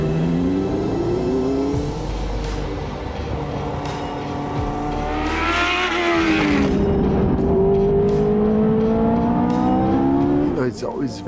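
A Lotus Evija electric hypercar drives past at the Lotus factory, its rising and falling whine sweeping up and down under steady nearby talk, with a brief louder surge in the middle.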